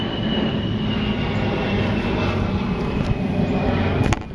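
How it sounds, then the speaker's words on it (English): A C-130 military aircraft from a nearby Air Force base flies over a home garden plot, producing a loud, continuous low propeller drone with a steady hum that fills the whole stretch. "It's another C-130 from the Air Force Base."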